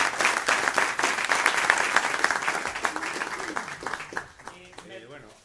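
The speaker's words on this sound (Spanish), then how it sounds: "Un aplauso." Sustained applause from an indoor audience at a talk about cycling through ten deserts by bicycle, dense and fairly loud, tapering off toward the end as a voice starts speaking.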